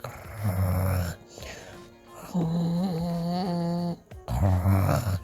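A voice imitates loud snoring with exaggerated drawn-out snorts and a nasal groaning tone, several rounds in a row, close to the mic.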